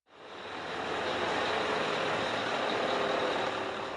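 A truck drives through an industrial estate with a steady broadband engine and road roar that rises quickly and holds loud.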